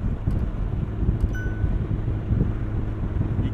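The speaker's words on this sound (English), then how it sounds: "you get that wind buffeting" Steady low wind buffeting and rumble in an open-top McLaren 720S Spider cruising at 55 mph with the top down, continuous and fairly loud with no talking.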